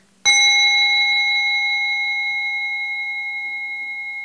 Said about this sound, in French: Et nous écoutons un son complet de la cloche.